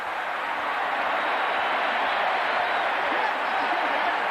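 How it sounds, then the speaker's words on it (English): A large college football stadium crowd claps and murmurs in a broad, steady wash of noise, heard from a distance. "The Aztecs are clapping"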